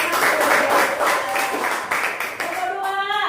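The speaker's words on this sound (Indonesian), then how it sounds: "Tepuk tangan untuk kelompok 1." Classroom group applauding a student group after their presentation: loud, close clapping from several people, fading toward the end as a voice begins speaking.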